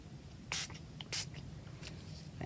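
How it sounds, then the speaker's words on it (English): Green paint sprayed in a few short, sharp hissing bursts, moderately close, with quieter pauses between them and no talk. "So if I spray now with green,"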